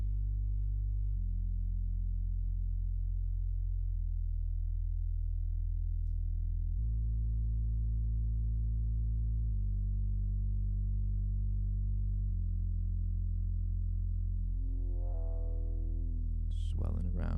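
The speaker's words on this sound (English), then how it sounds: "We got a bass, which is moving. Everything's moving here. This is just with the cutoff filter on the synth, kind of open and closing." A synth bass plays sustained low notes that step between pitches, its cutoff filter opening and closing so the tone swells and darkens, with a brighter sweeping chirp near the end.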